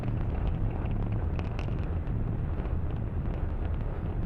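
SpaceX Falcon 9 rocket engines roaring during ascent on the KPLO mission launch, a steady, dense low rumble with broadband roar and wind-like buffeting, continuous and fairly loud throughout with no speech.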